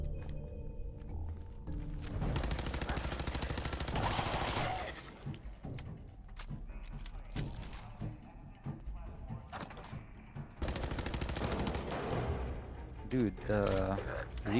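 Bursts of automatic gunfire from a heavy-recoil weapon in the video game Fallout 4, two long loud volleys separated by scattered single shots and game noise, with a player talking over parts of it.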